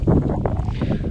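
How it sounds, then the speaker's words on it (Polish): Strong wind buffets the microphone at a beach after a long bike ride, a loud continuous low rumble with gusty bursts and no talk. "Oj, chyba się odwrócę, bo mocno wieje."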